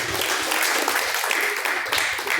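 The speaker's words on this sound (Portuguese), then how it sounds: "Palmas que louvam e engrandece a Deus." A church congregation claps in praise during a worship service, a brisk, dense patter of many hands at moderate loudness lasting a couple of seconds.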